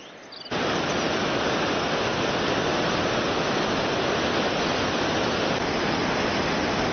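Powerful, steady rushing of Nairn Falls, loud and close, a dense roar filling the air without a break.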